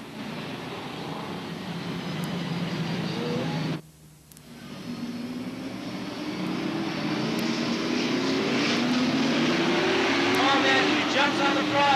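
Stock race cars roar around the oval at Star Speedway, a loud continuous engine drone that drops out briefly, then swells again as the field accelerates, under a race announcer's commentary.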